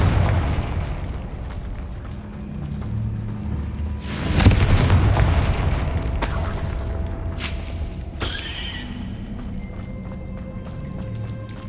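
A Confringo fire-blast spell going off in Hogwarts Legacy: a heavy booming burst midway, then a few sharper cracks over a low rumbling game ambience, no talk.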